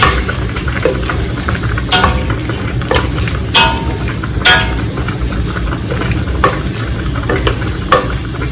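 Mushrooms sizzle and fry steadily in a hot pan for a pasta dish, with repeated scraping stir strokes at irregular intervals over the continuous crackle, close and fairly loud.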